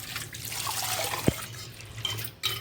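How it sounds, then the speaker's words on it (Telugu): Toor dal lentils are rinsed in water, with close splashing and swishing, small drips and one sharp clack partway through. "ఇక కందిపప్పు అయితే కడుక్కుందాం."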